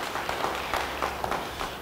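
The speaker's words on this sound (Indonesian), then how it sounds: "Yang percaya beri tepuk tangan bagi dia." A church congregation applauding, a brief burst of dense clapping that carries on steadily for a couple of seconds with no distinct voices on top.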